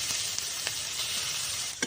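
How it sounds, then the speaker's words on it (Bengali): Grated beetroot and carrot frying in a pan with ginger and green chilli for vegetable chops, a loud continuous sizzle broken by several sharp spatula scrapes and taps as it is stirred. "বিট আর গাজরটা ভালোভাবে আমি এইভাবে ভেজে নেব"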